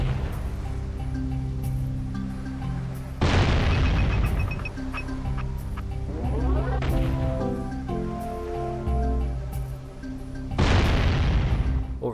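Cannon shots from a tower in the Jak and Daxter game blow up near the lurker crab. Two loud, booming blasts arrive several seconds apart over steady background music.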